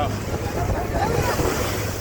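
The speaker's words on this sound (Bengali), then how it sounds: "ট্রলার ছেড়ে দিয়েছে" A trawler pushes across rough open water on the run to Hatiya Island in Noakhali, with steady wave wash, engine rumble and wind buffeting the microphone, loud and continuous throughout.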